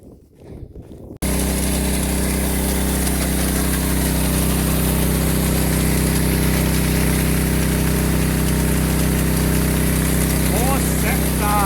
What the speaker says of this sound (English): Liquid applicator going.